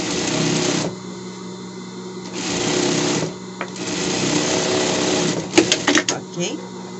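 A sewing machine stitches a hem on a fabric pet bed, running in two long steady whirring bursts with a pause between, then short stop-start runs near the end, close by and with no talking.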